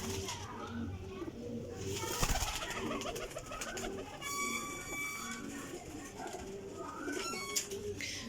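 Golden Teddy flying pigeons coo repeatedly under a busy mix of voices and background noise, with a few faint metallic rattles.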